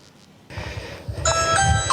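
A doorbell at a house porch rings with bright electronic chime tones, following a moment of low rustling and muffled noise.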